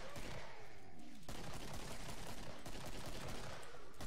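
Dual pistols firing in the video game Killing Floor, a dense rapid barrage of gunshots with heavy echoing blasts, loud and continuous throughout.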